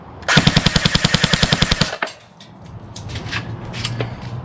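Airsoft gun firing a rapid, evenly spaced burst of about fifteen loud sharp shots through an Acetech AC6000 chronograph, then stopping abruptly, followed by faint handling noise.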